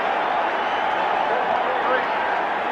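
A sellout crowd at Soldier Field roars steadily during the 1985 NFC Championship football game between the Rams and Bears, a dense, even wash of noise under a commentator's voice.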